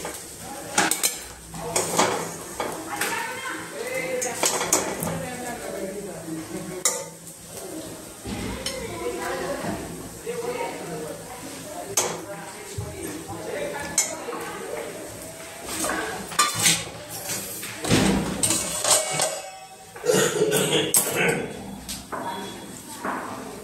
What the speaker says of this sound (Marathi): आता मी ते एका छोट्या प्लेटमध्ये काढून घेते।